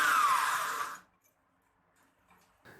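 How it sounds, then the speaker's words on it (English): A homemade right-angle die grinder built as a two-stroke porting tool whirs loudly for about a second, its pitch gliding slightly downward, then cuts off into near silence with faint handling noise at the end. "This DIY 90 degrees die grinder tool works very well."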